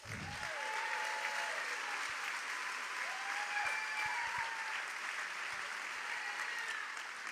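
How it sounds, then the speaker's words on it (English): An audience at a Snohomish, Washington event applauds state representatives taking the stage, a steady, fairly distant round of clapping that holds evenly from start to finish. "Everybody give them a round of applause"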